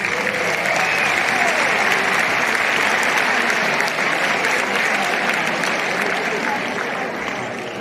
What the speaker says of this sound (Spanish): Los aplaudimos.